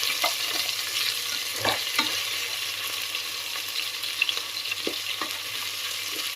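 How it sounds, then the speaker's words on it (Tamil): Crushed ginger and garlic fry with onions for mutton biryani, giving a steady close sizzle with a few scattered stirring knocks against the pan and no voices. "இஞ்சி பூண்டு பச்சை வாசனை போகிற வரைக்கும் ஃப்ரை பண்ணிக்கணும்"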